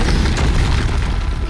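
Bombarda spell blast in Hogwarts Legacy, a loud and sustained booming explosion that fills the whole moment, with no talking over it.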